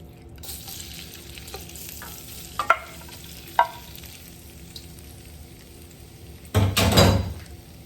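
Shrimp hit a tablespoon of hot oil in a pan for pad thai, after scattered clicks and utensil knocks: a sudden loud sizzle flares up near the end and crackles briefly, with no voices.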